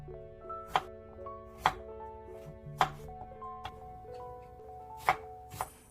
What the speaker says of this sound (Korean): 껍질을 제거한 단호박을 얇게 썰어줍니다.